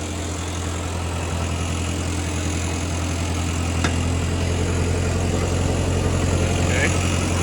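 A Ford 8N tractor engine runs at a steady idle, a loud continuous low rumble that stays even throughout, with no voices over it.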